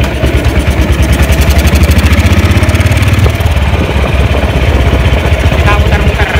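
BSA M21 600cc side-valve motorcycle, an old British wartime machine, running with a steady low thumping engine note that holds loud and close, then shifts slightly as it rides around; faint voices sit beneath it.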